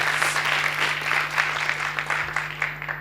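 A studio audience at an outdoor radio show applauds the performers, a full steady ovation at close range with a constant low hum beneath, easing slightly near the end.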